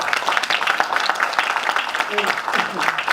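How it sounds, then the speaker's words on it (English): Audience applause at a business networking podcast event: a steady wash of clapping from many hands throughout, with a few voices briefly audible within it. "give Hector a round of applause."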